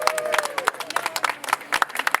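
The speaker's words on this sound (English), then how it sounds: "so let's give them a round of applause" A rally crowd claps and cheers in a brief burst of scattered applause, with voices calling out over the clapping.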